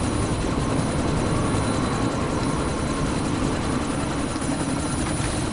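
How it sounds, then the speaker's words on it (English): Helicopter in the video game Deus Ex: Mankind Divided, a loud, continuous rotor-and-engine drone with a steady low thump that holds evenly throughout, no voices heard. "you need to disable that chopper"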